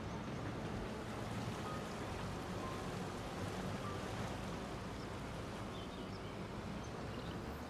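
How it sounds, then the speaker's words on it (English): Steady rain from the video game Farming Simulator 25 falls on a grain farm as an even, faint broadband hiss that does not change for the whole stretch, with no voices. "And that's a good rain here on your grain farm so far this year."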